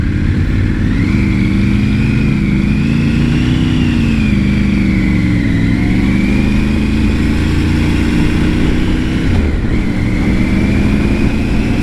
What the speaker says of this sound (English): Lou is riding on an F850 GS.